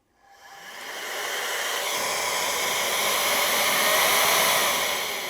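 A Jbonest electric compressed air duster spins up and then holds a loud, steady, close rushing blast of air with no speech over it.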